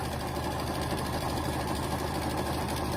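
A sewing machine top-stitches fabric basket handles in a loud, continuous, fast mechanical whir, steady and close, with no voices.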